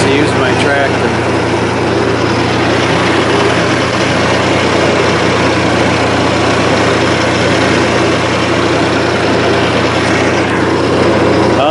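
A tractor engine running at a steady idle-like drone, loud and close, constant throughout with no change in pitch while someone clears a fence line on a warm November day.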